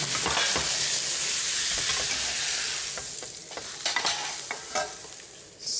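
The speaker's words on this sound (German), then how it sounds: "ich mag das schön scharf anbraten" Loud, steady sizzling of beef searing hard in a hot pan, with occasional scrapes and clatters of a utensil as it is stirred; no talking.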